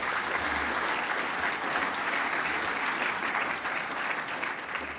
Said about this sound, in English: I think we can do another round of applause